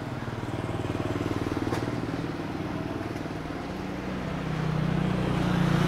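A motorcycle engine drones nearby on a street in Chiang Mai, Thailand, with a throbbing low rumble, growing louder toward the end as it draws closer.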